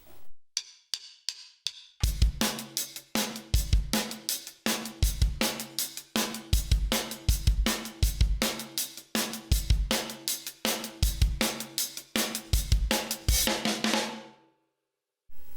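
Full drum kit playing the pre-chorus groove of a song, a few sparse hits first, then steady kick, snare and crashing cymbals pounding in a driving repeated pattern, loud and close, ending abruptly.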